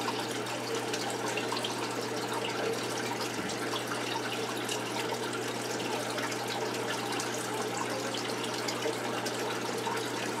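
Aquarium gravel vacuum siphoning water from a sand-bottomed gudgeon tank into a bucket, giving a steady, continuous gushing and trickling flow that holds level throughout with no talk.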